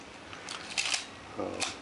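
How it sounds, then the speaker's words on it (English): Film advance lever being wound on a Canon AE-1 35mm SLR camera: two short mechanical ratcheting strokes, close and fairly quiet, with no talking. "Film advance works well."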